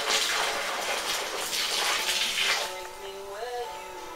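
Tap water runs and splashes over the lid of a Muntons Premium Gold homebrew malt extract tin, rinsing off the leftover malt; a steady close gush that thins out in the last second.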